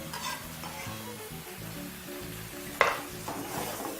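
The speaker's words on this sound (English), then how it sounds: "so just give it a nice quick stir. And remember, this is cooking at high heat" Tomatoes frying over high heat in a pan give a steady sizzle, with a spoon stirring through them in soft scraping strokes and a brief louder clatter near the end.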